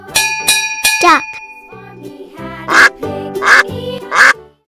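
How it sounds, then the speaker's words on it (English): A farm duck quacks three times in loud, nasal bursts, each spaced about a second apart, following and mixed with light, tinkling musical notes. "Duck."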